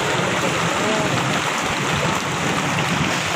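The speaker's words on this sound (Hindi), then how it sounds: "बारिश का मौसम" Heavy rain pours steadily in Taxila, a dense continuous hiss of water falling on surfaces, loud and even throughout with no pauses.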